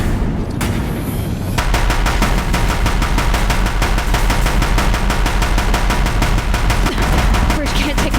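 Dense, continuous gunfire rattles on a bridge in the video game Horizon Zero Dawn, with loud rapid bursts and booms that go on without a break.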